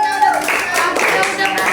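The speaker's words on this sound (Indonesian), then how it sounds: "Tepuk tangan dulu dong teman-teman." Students at an UHAMKA guidance and counseling (Bimbingan dan Konseling) class session clap their hands in a brief, lively burst of close, scattered applause with voices mixed in.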